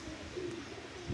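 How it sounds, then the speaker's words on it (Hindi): Pigeons coo softly among free-roaming chickens in a farmyard, a low murmuring coo rising briefly twice over a steady background hum, faint and with no talk. "देखें जी, सारे कबूतर माशाल्लाह नीचे आ गए हैं।"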